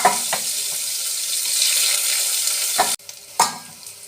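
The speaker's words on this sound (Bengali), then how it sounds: "এবার কিছু কাঁচা পেঁয়াজ দিয়ে দেব।" Raw onions dropped into hot oil with cardamom, cinnamon and cloves for rajma, a loud, bright hissing sizzle that holds steady, breaks off abruptly, then returns with a stirring clatter.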